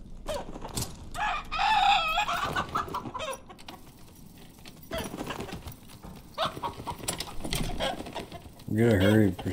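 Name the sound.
chicken clucking in Dark and Darker video game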